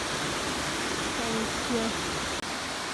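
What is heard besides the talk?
Black Forest waterfall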